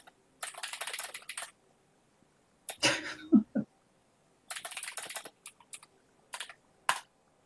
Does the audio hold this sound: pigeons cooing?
no